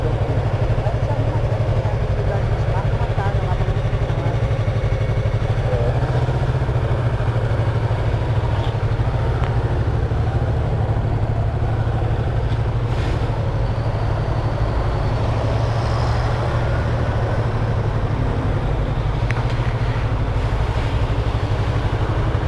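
A motorcycle idling steadily on a trip to a bike meet in Paracatu, Brazil, with a constant low engine rumble and its radiator fan running, under ongoing conversation between people nearby.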